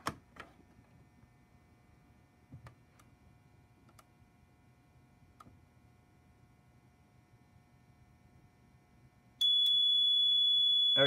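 Notifier fire alarm panel sounding during a test of an SDX551 smoke detector: after near silence with faint ticks, a loud steady electronic alarm tone abruptly starts and holds.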